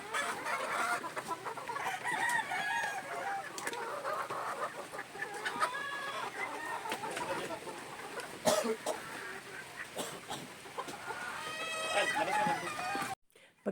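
Cockerels kept as breeders in a rural range area cluck repeatedly and crow now and then, fairly close and moderately quiet, while a person speaks over the birds.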